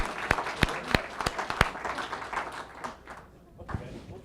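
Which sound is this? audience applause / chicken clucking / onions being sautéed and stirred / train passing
audience applause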